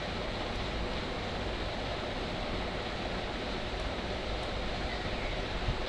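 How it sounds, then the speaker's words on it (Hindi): Raw mango chutney ingredients with salt and red chillies whir in a kitchen blender, a steady, dense roar held at an even level throughout without pauses. "इस तरह से हम सारी चीज़ें इसमें शामिल करके और इनको अच्छी तरह से हमने ब्लेंड कर लेना है"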